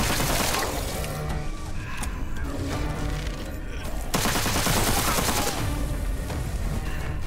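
Gunfire in the first-person shooter Witchfire, dense loud bursts of rapid shots and crackling impacts filling the whole stretch, with a brief lull before the firing resumes heavily.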